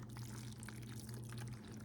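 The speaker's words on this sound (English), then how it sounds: "Pour it into a 9x13." Baked ziti mixture poured into a 9x13 baking dish, giving a soft, steady pouring and trickling sound with a constant low hum behind it, close up and without speech.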